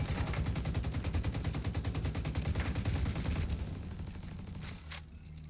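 Rapid automatic gunfire from The Division video game rattles in a fast, even stream for about four and a half seconds, then cuts off.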